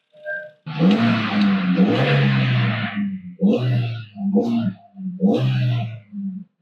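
A rough, rumbling car engine with a cracked exhaust manifold revs in uneven bursts, with a raspy, ticking exhaust note rising and falling several times close by.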